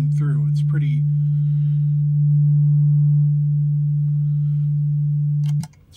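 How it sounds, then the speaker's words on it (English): A steady, pure low-pitched sine tone at D3 from an Empress ZOIA synthesizer hums for several seconds, briefly joined by faint chirpy blips at the start, then cuts off abruptly. "I'm just going to quickly change that into a sine wave"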